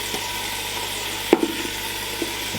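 Lamb sizzles in a Ninja Foodi Max pressure cooker on saute, a steady close frying hiss broken by a couple of sharp utensil knocks or stirring scrapes.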